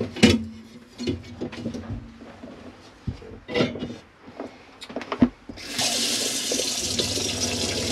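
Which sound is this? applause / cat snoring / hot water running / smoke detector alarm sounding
hot water running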